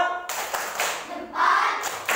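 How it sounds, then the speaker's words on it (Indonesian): Children in an Indonesian elementary classroom clap their hands in a quick patterned rhythm, several bursts of close, bright claps over about two seconds with no talking. "Tepuk jempol."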